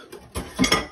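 A whisk clinks against a bowl while beating vanilla extract into the wet ingredients for strawberry shortcakes, making a few quick, close metallic taps and scrapes.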